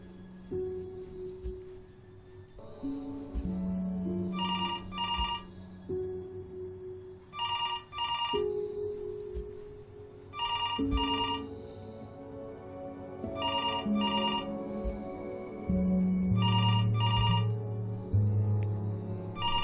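Telephone ringing in the video game Before Your Eyes, with repeated double bursts of an old-style ring over a steady piano and musical score, loud and clear.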